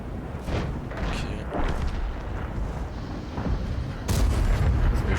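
Tank cannon fire in the World of Tanks video game, heavy booming shots and rumbling battle noise in a sustained loud mix, with a stronger blast near the end.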